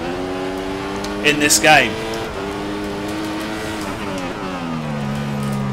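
Engine whine of a Formula 1 car in a 2015 PC racing game, a steady high-pitched tone shifting as it accelerates and slows, under continuous talk.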